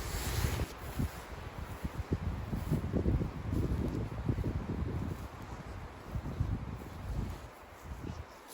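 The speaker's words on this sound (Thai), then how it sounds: "ลมแห้ง" Dry wind gusting steadily outdoors while walking through a mushroom-foraging area, a continuous rough broadband rush with buffeting bursts against the microphone and faint rustling, no voices.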